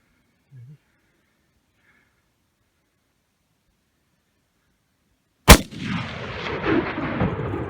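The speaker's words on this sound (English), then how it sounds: "So my brother decided to take his first shot, just a skosh under 300 yards." A single loud rifle shot fired during a bighorn ram hunt in the Utah mountains cracks out after long near-silence, then rolls away in a booming echo and outdoor noise.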